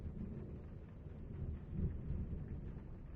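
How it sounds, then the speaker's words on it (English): Thunder and rain in the video game The Room: Old Sins, a deep steady rumble of rolling thunder over constant rainfall that swells briefly midway, heard alone with no voices. "I love the thunder sound."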